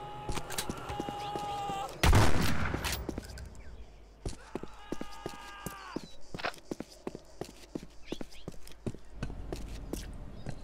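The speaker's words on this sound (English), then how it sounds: "Who is shooting the cop?" Gunfire in the video game Postal 4 while a cop is shot: a loud burst of shots followed by scattered sharp cracks and clicks alongside in-game ambient sounds.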